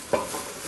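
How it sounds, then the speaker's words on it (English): Pumpkin pieces being stirred with spices and onion in a hot pot, one brief scrape of the spoon over a steady sizzle. "just coat the pumpkin with the spices and the onion"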